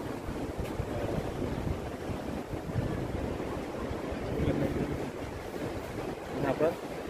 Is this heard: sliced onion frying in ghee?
no